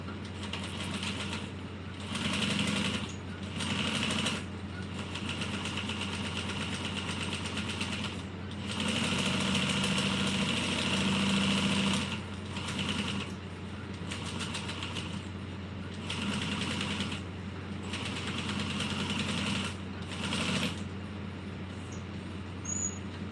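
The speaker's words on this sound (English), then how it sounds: "I'm just going to top stitch this at 1/8 of an inch" A sewing machine top stitches a bag at one-eighth inch, running in a steady series of whirring, clattering bursts separated by brief pauses, close and alone over a low hum.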